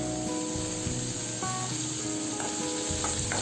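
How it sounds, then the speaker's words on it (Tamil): Chopped tomato sautéing in a pan for a green peas fry, a steady, soft sizzle with occasional scraping stirs, no voices. "தக்காளி போட்டதுக்கப்புறம் ஒரு 30 to 40 செகண்ட்ஸ் நல்லா வதக்கிடலாம்."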